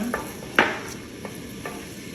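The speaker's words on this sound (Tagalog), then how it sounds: "sinalang ko na yung pan at nilagyan ko siya ng olive oils. At ngayon i-add ko na itong hiniwa kong onion. Halu-haluin ko lang siya." Sliced onion frying in olive oil in a pan, with a steady soft sizzle and a few light scraping stirs, one louder knock of the utensil against the pan.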